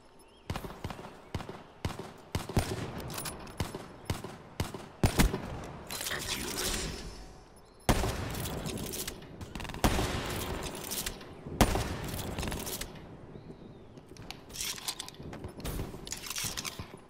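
Rapid bursts of Black Ops III gunfire crackle through most of the stretch, with repeated automatic volleys and sharp individual shots at close, loud range.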